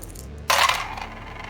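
Dice clatter once onto a tabletop during a miniatures wargame, a short bright rattle that quickly fades into a quiet room with no talk.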